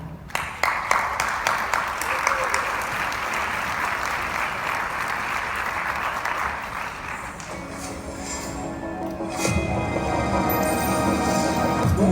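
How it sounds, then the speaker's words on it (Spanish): An audience at a business analytics talk breaks into sustained, dense applause to welcome the next speaker, steady for several seconds before it thins and mixes with background sound and faint voices. "Vamos a recibir con un fuerte aplauso a Hugo Pimentel."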